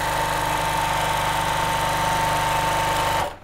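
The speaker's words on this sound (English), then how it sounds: "That machine sound really noisy." A sewing machine runs at steady speed while a curved-top tote bag is being sewn, giving a loud, continuous mechanical whirr and hum with a fast rhythmic chatter before it stops suddenly at the end.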